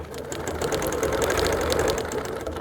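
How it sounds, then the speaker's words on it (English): Sewing machine stitching a straight quilting line along a ruler, a steady close mechanical whir with rapid needle knocking running continuously throughout. "So I'm going to straighten that ruler up along one of those lines and just stitch a straight line."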